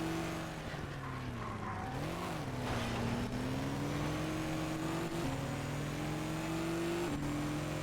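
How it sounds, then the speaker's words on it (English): A racing car in ToCA Race Driver 2 revs continuously and loudly, its engine pitch dipping and surging as the gearbox pops in and out of gear, with no talk. "it's popping in and out of gear now"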